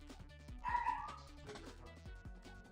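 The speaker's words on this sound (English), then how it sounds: "So I will let my dog sing to you in the background." A pet dog sings and howls along in the background, giving soft whimpering yips and a drawn-out, wavering higher cry. The sound is faint and mixed with low background noise.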